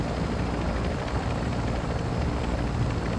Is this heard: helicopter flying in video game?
yes